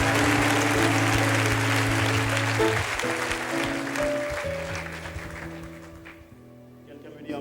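A church congregation claps loudly during a French-language sermon, dense applause that fades gradually toward the end while a voice talks over it.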